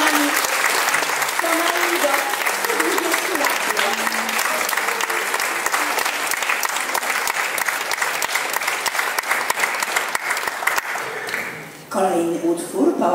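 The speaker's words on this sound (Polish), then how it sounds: "o duże brawa dla niej" Sustained applause from a concert audience fills the hall with dense, steady clapping that dips briefly near the end and then resumes, with a voice speaking over it at times.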